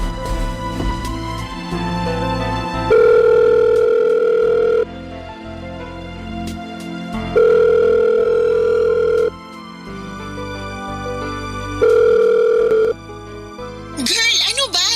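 A cellphone call rings out in a house: a steady ringback tone plays in long bursts, about three evenly spaced rings separated by pauses, loud over continuous background music, with no one speaking.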